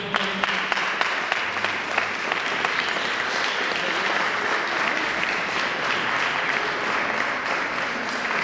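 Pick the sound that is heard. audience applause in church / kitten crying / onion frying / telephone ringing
audience applause in church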